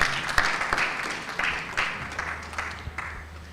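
A conference audience claps for a panel, a moderate round of applause with scattered distinct hand claps that gradually fades over a few seconds, heard fairly close in an indoor hall.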